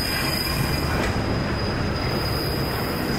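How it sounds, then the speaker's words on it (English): A CSX freight train rolling slowly past nearby on the Metropolitan Subdivision, with a steady rumble and a high, sustained wheel squeal over the grinding noise. "This is the second time I've seen a slow freight train go here in Benton."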